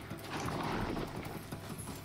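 Horse hooves galloping in the video game Horizon Zero Dawn, a steady clip-clop rhythm that runs continuously at moderate loudness with a faint game ambience around it.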